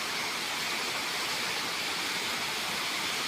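A waterfall roars in a steady, unbroken broadband rush of falling water, loud and continuous, with no other sound standing out.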